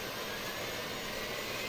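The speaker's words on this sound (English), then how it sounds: "basically, it's like a tiny little jet engine that produces enough electricity and air that we can run the plane on it" An airliner's auxiliary power unit runs in the FSX flight simulator video game as a steady, dense jet-like roar and whine with no variation over the short stretch.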